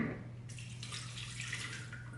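Water is poured straight into the empty bottom of a Toddy cold brew container, a steady, quiet splashing stream running continuously under a low background hum.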